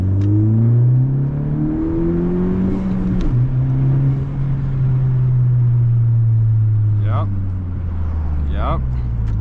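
Turbocharged tenth-generation Honda Civic Si engine pulling hard in second gear: a loud, steady rising drone fills the cabin and climbs in pitch, with brief whooshing turbo and shift sounds near the end.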